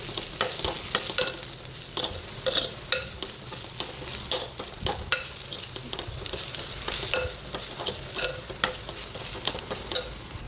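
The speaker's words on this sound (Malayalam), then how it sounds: "മുളക് പൊടിയിലേക്ക് പച്ചമണം മാറും വരെ നന്നായിട്ട് ഇളക്കുക." Chili powder is stirred into a sizzling sardine curry masala in a pan for Kottayam-style fish curry, with steady close frying sizzle and repeated scraping strokes of the spoon, no talking.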